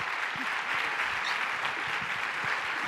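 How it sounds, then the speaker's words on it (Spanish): Audience at a conference hall applauding steadily, a dense wash of clapping held at an even level for a few seconds, with no voices over it. "Un fort aplaudiment."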